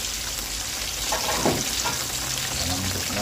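Tomatoes frying in a pan, a steady broadband sizzle that holds throughout at moderate loudness, with a brief stirring scrape near the middle and no talk.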